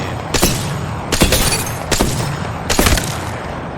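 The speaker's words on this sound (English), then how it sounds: "Now, long range sniper." Long range sniper rifle fired in a video game, four loud booming shots spaced about three-quarters of a second apart, each with a brief ringing tail.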